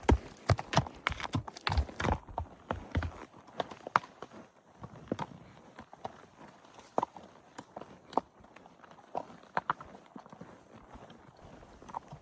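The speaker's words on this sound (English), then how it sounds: "so you could see firsthand like what the rocks sound like, what our hooves are doing, how the brush rubs past you" Horse hooves clop steadily over a rocky mountain trail on horseback, with irregular close knocks and scrapes on stone and brush rubbing in between.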